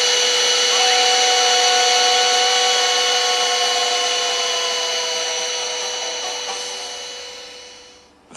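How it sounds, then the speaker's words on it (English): A household vacuum cleaner runs loud and steady with a whining motor hum, holding for about eight seconds before cutting out abruptly at the end. "Stop the vacuum. Stop it."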